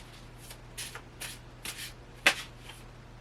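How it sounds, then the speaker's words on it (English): A tarot card deck shuffled by hand in a quiet room, five or six soft riffling bursts at an irregular pace with one sharper snap, close and faint over a low steady hum. "let's get one more card here"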